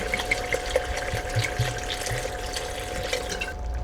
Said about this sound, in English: I'm gonna add 500 ml of red wine